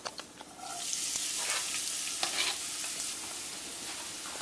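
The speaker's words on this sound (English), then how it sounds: "we'll be putting our onions and our garlic into the oil" Onions and garlic fry in hot oil with a steady, close sizzle that swells after they drop in, broken by a few scraping stirs and clicks; no voices.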